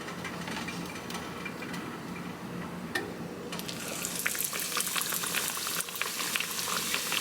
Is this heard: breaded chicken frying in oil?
yes